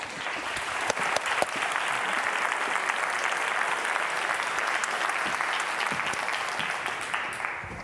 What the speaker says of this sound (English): please give her an extra round of applause